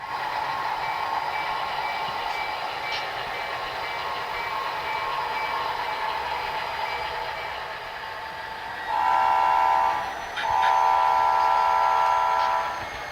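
An HO scale model train runs along a Western Pacific layout with a steady motor hum and light wheel noise, then sounds two loud electronic horn blasts near the end.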